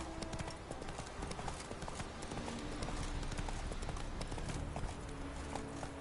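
Hooves clip-clop in a fast, rapid rhythm as a horse gallops in The Witcher 3, loud and continuous throughout with no voices over it.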